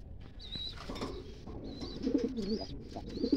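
Domestic pigeons coo softly in low murmuring bursts at a breeding loft, with faint chirps and rustling around them and no talking.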